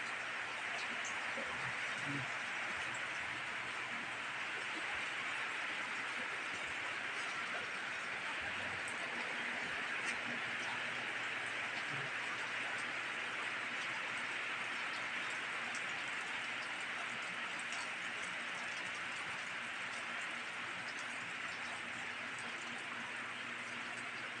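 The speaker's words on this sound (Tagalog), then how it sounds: "Ulan man di ay." Steady rain hisses without a break, with scattered drips and ticks close by. A few faint sounds stand out from time to time.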